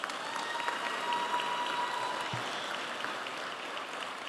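An audience at a sheriff's office commendation ceremony claps in a steady, even wash that holds through to the end.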